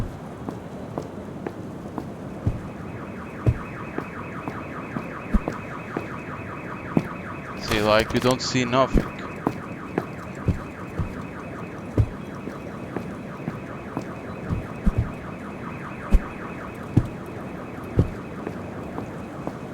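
Alarm ringing steadily inside The Midnight Town Stories: Adam's Diary, a continuous wavering electronic tone over rain-like patter and scattered ticks, with a brief louder burst of noise midway and a few quiet spoken words.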